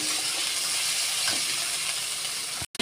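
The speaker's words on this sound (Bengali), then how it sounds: "এবারে আলুটা দিয়ে দেবো, এতে দিয়ে ভালো করে কষিয়ে নেবো।" Potatoes frying and being stirred with spices in a pan, giving a dense, even sizzle close up that runs without a break before cutting off abruptly at the end, with no voices.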